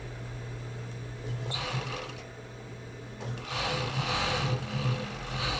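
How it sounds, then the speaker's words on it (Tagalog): An overlock sewing machine cuts and stitches cloth with a steady mechanical whir and low hum, punctuated by clicking, rattling bursts as the blade trims the fabric, heard up close. "Overlock machine. Kitang-kita naman pag namumutol to."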